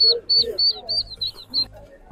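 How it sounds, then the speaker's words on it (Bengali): Pigeons and ducks in an outdoor yard in Saudi Arabia, with repeated short high chirping calls in a steady rhythm, fairly close, over a low murmur of background noise. "এই দেখো পায়রাগুলো দেখো, আর এই হচ্ছে হাঁস"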